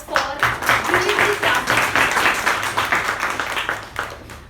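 Audience applause at a club meeting after a speech, a dense steady patter of many hands clapping that runs the whole time, with a speaker's voice faintly present underneath.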